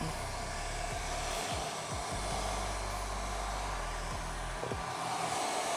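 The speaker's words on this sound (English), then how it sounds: "And then I will also heat up the vinyl wrap before it goes on." Heat gun warming motorcycle vinyl wrap before application, a continuous loud blower hiss with a low motor hum whose pitch dips and shifts several times as the tool is moved or switched.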